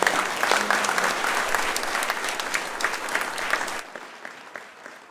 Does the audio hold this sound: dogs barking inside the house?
no